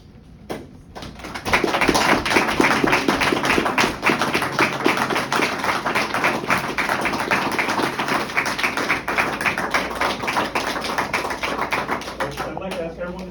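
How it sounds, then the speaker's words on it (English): Applause from an audience at a state police trooper awards ceremony honouring Medal of Valor recipients, a dense steady patter of many hands that swells after a brief pause and carries on loudly, with voices mixed in. "I'd like to ask everyone to give these heroes a quick round of applause"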